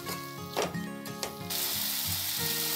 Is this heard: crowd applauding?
no